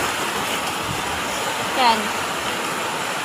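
River water flows nearby with a continuous broadband rush, while a person says a brief word over it.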